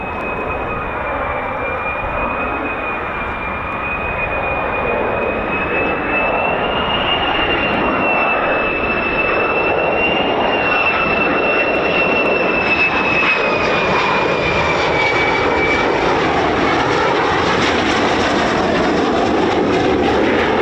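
An F-35 fighter jet on ILS approach to land at RAF Lakenheath roars loudly and steadily, with a high engine whine drifting in pitch as the aircraft nears and passes close by.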